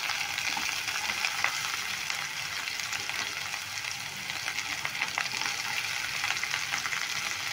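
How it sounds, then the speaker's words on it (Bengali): Garlic and sliced onion fry in hot oil for a pointed gourd mash, producing a constant close crackling sizzle with light stirring and no pauses. "রসুনটাকে একটু নেড়ে চেড়ে ভালো করে ভেজে নেব। এরপর দিয়ে দেবো পেঁয়াজ।"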